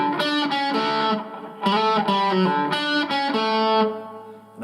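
Distorted electric guitar plays a riff with slides and pull-offs, loud and continuous single-note lines with thick overdrive and no talking.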